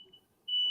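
A fire alarm in a home kitchen emits a steady high electronic tone, first faint, then rising to a loud sustained beep near the end, with no talk over it.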